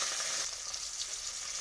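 Live chara fish fingerlings frying hard in hot oil in a kadai, a dense, steady close-up sizzle crackling without pause for the whole moment.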